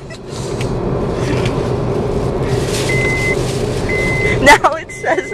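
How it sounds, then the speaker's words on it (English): A car's warning chime repeats several times as short tonal beeps over engine and cabin rumble, with people talking close by in the car and some brief bumps near the end. "I thought your car was beeping because it was burning."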